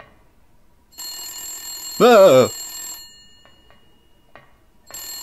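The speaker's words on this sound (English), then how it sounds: "What's going on with that telephone?" A telephone in the Silent Hill video game rings with a bright, tonal burst for about half a second in the middle, loud against a quiet, humming background, and a voice briefly exclaims.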